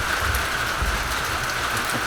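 Steady rain falling and pattering on surfaces, a dense, even hiss with soft low rumble, loud and continuous with no talking.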